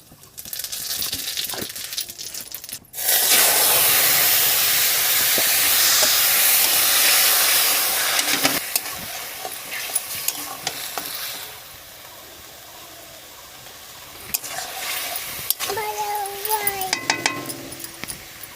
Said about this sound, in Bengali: তেল দিয়ে দিচ্ছি রাঁধুনি ফোড়ন দিয়ে দিলাম